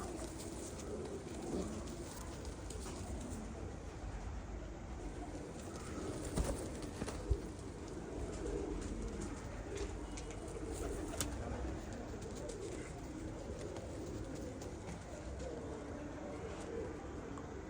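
Pigeons coo faintly amid a low, steady background of rustling and shuffling, with soft murmurs of voices now and then and a couple of brief knocks.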